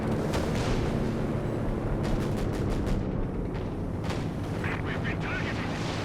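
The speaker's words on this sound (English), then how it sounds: "Coordinated artillery strike." Artillery barrage from a coordinated strike in a Company of Heroes 2 4v4 match, a dense rumbling wash of distant shell blasts and crackling impacts rolling continuously, with several sharper bursts standing out midway.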